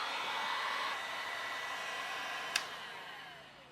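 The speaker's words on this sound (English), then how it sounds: "with heat gun in place, I use this tip" Heat gun blowing steadily while melting kayak plastic to repair a crack, a constant airy hiss close by, with a sharp click midway.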